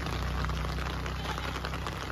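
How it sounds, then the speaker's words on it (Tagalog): Steady rain falls on a rainy day, a dense, even patter that stays constant and fairly close throughout, with no voices. "And it's rainy day"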